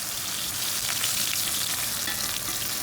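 A ribeye steak sears in a hot cast iron pan with butter, giving a steady, dense sizzle and crackle that stays loud and close throughout with no talking.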